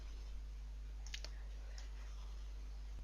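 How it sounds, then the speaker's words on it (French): A few faint computer mouse clicks on an OK button during a web design tutorial, light crisp ticks over a steady low electrical hum in a quiet room. "Je clique sur OK."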